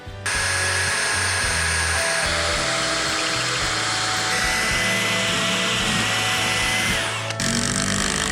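A power drill drives screws into a wooden range hood frame, a loud continuous whining buzz that shifts pitch a few times as the screw seats, with a brief pause near the end before running again.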